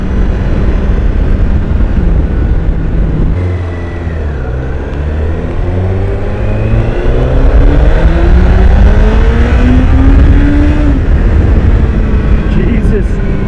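A 2016 Honda CBR1000RR SP motorcycle accelerates hard through the gears, its loud close engine note climbing in pitch, dropping briefly at each shift and rising again, with wind rush throughout.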